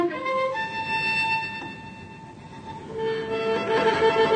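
A cello plays the Catalan tune Song of the Birds, with high thin sustained tones imitating birdsong over a noisy background, heard from a distance.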